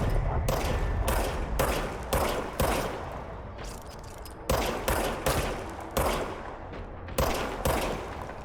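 Rapid bursts of gunfire from the action video game Control, repeated volleys of loud, close shots in several clusters with brief pauses between them, no talking over them.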